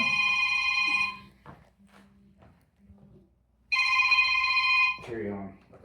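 A telephone rings in two bursts of electronic trilling, the first about a second long and the second longer after a pause, with muffled voices talking quietly in between and someone speaking just after the second ring.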